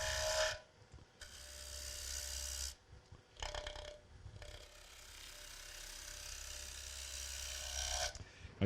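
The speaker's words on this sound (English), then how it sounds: "It's just a bowl gouge. I am riding the bevel." A bowl gouge rides the bevel across a spinning wood platter on a lathe, giving a rough, ratcheting scrape that comes in loud bursts separated by quieter motor hum, close up and with no talking.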